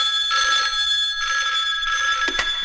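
An old-style telephone rings in three repeated bursts with short gaps, loud and close, a sharp clack at the end.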